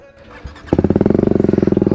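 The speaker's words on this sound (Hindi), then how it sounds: "थोड़ा बाइक को सबसे पहले कोल्ड स्टार्ट करते हैं" A TVS Apache RR310 BS6 motorcycle fitted with a Leo Vince exhaust cold-starts with a brief starter whir, then settles into a loud, close, rapid and even idle thump.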